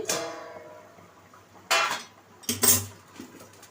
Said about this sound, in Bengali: আমি এখন ঢাকাটা খুলছি